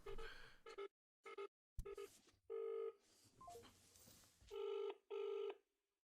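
Telephone line tones after a call is hung up: repeated loud steady beeps in short bursts with gaps, some garbled line noise between, no talking.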